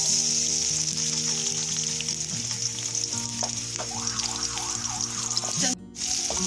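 Onions sizzling loudly in half a cup of hot oil for a moong dal recipe, a steady bright hiss with a brief dip near the end, while low background hum and music-like tones run beneath.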